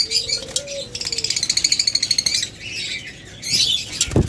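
A pair of green opaline budgerigars chirp and chatter in quick bright bursts, with a fast run of repeated chirps in the middle and a brief rustle of wings.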